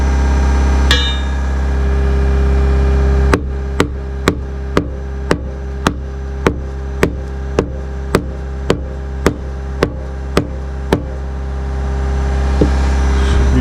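Steady hammer blows from a new Martinez hammer, about fifteen sharp evenly spaced strikes close by over a low constant hum, securing a staple during shop electrical cable work.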